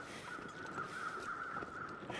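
Crows caw in the video game The Long Dark, faint and distant. Their repeated calls sit over a steady, hushed ambient background.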